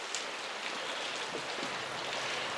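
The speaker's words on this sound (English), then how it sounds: "it's raining, it's windy" Steady rain hissing across the whole stretch, a broad wash of noise with faint drops and a little wind, no voices.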